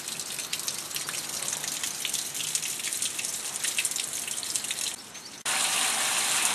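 Muddy storm water pours in after a storm through storm drains feeding a small tributary of Codorus Creek, a close, steady rushing gush with spattering drips that swells louder near the end.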